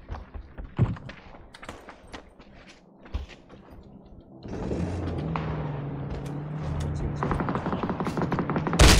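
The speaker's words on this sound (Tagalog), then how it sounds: "Nagpaputok ka pa ng baril." Gunfire crackles in the PUBG battle royale game: scattered sharp shots early on, then a steady vehicle engine drone takes over, with more shots and clatter near the end.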